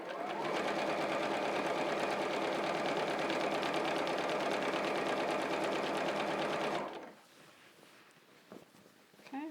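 A sewing machine runs in one long continuous burst, stitching the elastic waist of pajama pants with a fast, even mechanical chatter, then stops abruptly, leaving quiet fabric handling.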